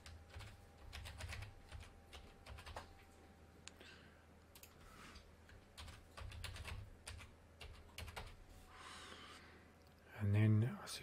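Password keys tapped on a computer keyboard, a run of quiet, close clicks in short bursts, with a louder thump near the end and faint room noise throughout.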